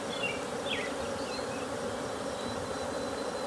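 Angry honey bees swarm at an opened hive during frame handling, a dense, continuous buzzing all around with individual bees whining past close by.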